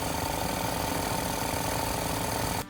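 Up close, a Hemi car engine that runs a bit rough idles with a loud, even, rapid pulsing chug. The rhythmic knocking beat continues without a break until it cuts off at the end.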